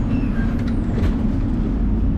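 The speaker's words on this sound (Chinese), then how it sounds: "从饭店搭4号电车就可以直达巴士总站了" Steady low rumble from inside a tram on line 4 in Český Krumlov, Czech Republic, with a constant hum of motion and faint squeaks and clicks over the drone.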